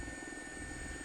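A helicopter's engine runs steadily nearby in the cockpit before a flight to Windsor Castle, a constant low throbbing rotor drone with a thin high whine held through the whole short stretch.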